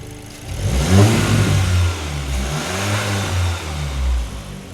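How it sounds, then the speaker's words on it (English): Volkswagen Golf GTI MK8.5 fitted with a CTS cold air intake revs up from idle, the engine note rising, holding and swelling again in a few loud, close pulls with no talking. "we're gonna get a little rev right here to see how it sounds"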